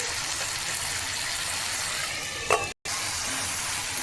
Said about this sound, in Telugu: బాగా వేగిపోవాలా టమాటాలు మెత్తగా.